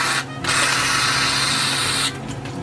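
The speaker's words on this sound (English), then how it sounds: "This is nearly gone, so it may not spray out how it would if it was full." A nearly empty aerosol spray can releases one continuous hiss lasting about a second and a half, close and fairly loud, then cuts off abruptly.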